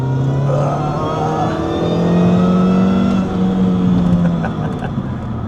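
A Mini Cooper S R53 accelerates hard at high revs, its engine note climbing steadily through a loud, continuous pull heard from inside or close by.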